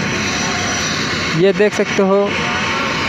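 A helicopter at the three-day Giraudpuri fair in Chhattisgarh in 2023 produces a steady, broad roar of rotor and engine noise while someone speaks over it.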